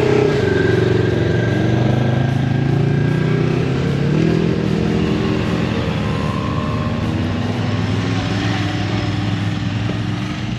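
Off-road rally side-by-sides and ATVs at a Canadian off-road rally, engines droning steadily as they pass nearby, a continuous loud motor roar that holds for the whole stretch without a break.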